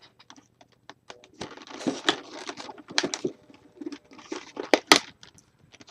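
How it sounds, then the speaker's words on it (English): Razor blade slicing along the edges of plastic blister packaging on a Marvel Select Hawkeye toy, a close series of crisp scratchy clicks and crinkling bursts with quiet gaps between them. "handy dandy razor, I will just cut along the edges"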